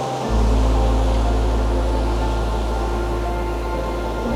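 Small ocean waves wash against a rocky shore as a continuous, fairly loud rumble of surf, with strong low wind-like roar throughout and no talking.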